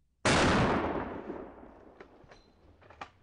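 A single loud rifle gunshot fired at an African elephant cracks sharply, then its boom rolls away in a long fading echo with faint after-sounds.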